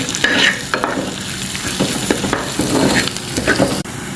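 Sliced onions frying in a pan with black cumin seeds added, giving a loud, close sizzle broken by repeated spatula stirs and scrapes, alone without talk.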